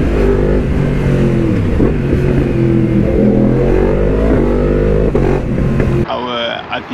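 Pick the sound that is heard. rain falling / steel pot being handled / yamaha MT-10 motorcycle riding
yamaha MT-10 motorcycle riding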